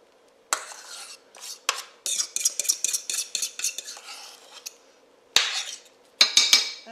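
Cube steaks being put into a slow cooker with utensils, giving close clinks, scrapes and stirring taps of metal against the pot in short bursts with pauses.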